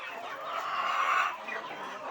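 Aseel rooster at a chicken farm selling chicks, clucking in a steady, moderately near stream under faint background noise.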